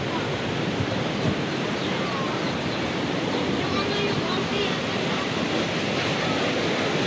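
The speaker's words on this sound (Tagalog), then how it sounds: "Grabe lakas ng agos." Strong floodwater rushes loudly near Wawa Dam during a flood, a steady, dense roar of churning water close by that fills the whole stretch without letup.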